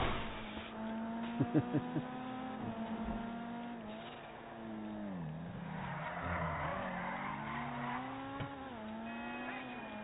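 Engine drone of a car sliding and drifting in the Redline RP driving game, a sustained rising and falling whine with tire skid noise smeared through it, heard alone and fairly quiet.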